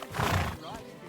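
Pebbles the horse gives a short, fairly close neigh in a medieval role-playing game world, with a wavering whinny rising over a soft breathy onset. A brief, single call.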